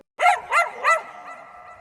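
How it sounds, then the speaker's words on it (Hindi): A puppy-like dog lets out three quick, close yelps in a row, each bright and rising, followed by a fainter trailing whine with no voices present. "अच्छा, हम सोचा कुत्ते का बच्चा है"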